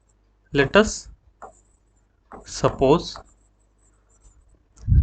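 Pen or marker strokes while writing out a math solution for a class 10 NCERT exercise, faint soft scratching in the pauses between stretches of a man's teaching speech, which dominates the clip.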